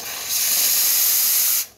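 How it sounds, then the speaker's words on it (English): A Pasquini Livia 90 espresso machine's steam wand opens with a sharp, loud hiss that holds steady for over a second, then cuts off abruptly. "test the steam,"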